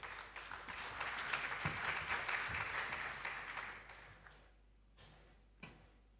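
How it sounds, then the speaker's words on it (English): A conference audience at the AfriLabs Annual Gathering claps for several seconds, a dense patter of applause that thins out and fades, followed by a few isolated claps and knocks. "A round of applause for them again."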